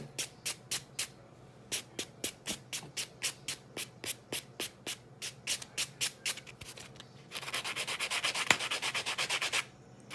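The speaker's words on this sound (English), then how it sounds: "So you always want to be buffing in a rounding motion." An acrylic nail is buffed in a rounding motion: quick, rhythmic rasping strokes repeat close up in short regular bursts, then merge into a denser continuous scrubbing toward the end, with no talking.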